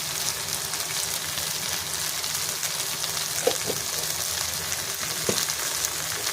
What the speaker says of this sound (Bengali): আর খুব ভালো ভাজা ভাজা হচ্ছে